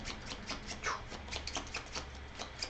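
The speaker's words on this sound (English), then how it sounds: "So that's the shuffle. My discard and my draw pile all back together." Soft, rapid riffling and patter of board game cards being shuffled, the discard and draw piles combined, quiet and close with a steady run of light flicks.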